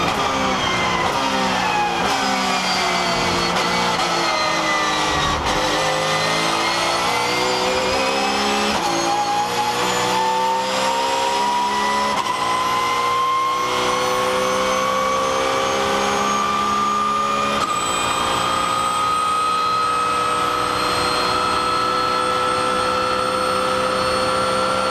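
Race cars flat out on the Le Mans circuit, GT cars near 300 km/h and prototypes near 340 km/h, engines screaming loud and continuous with rising, shifting pitch and overlapping passes, no talk.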